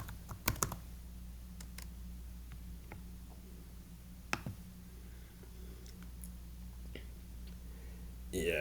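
Computer keyboard clicking in quiet bursts of soft typing, scattered taps and a few sharper clicks against a low background hum, with brief faint voice sounds.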